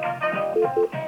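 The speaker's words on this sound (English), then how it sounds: "It beeps every 30 seconds when it thinks it's on hold." A 3CX VoIP desk phone sounds its on-hold beep: two short, steady electronic tones sit close and clear above a low murmur of room noise, with no talking.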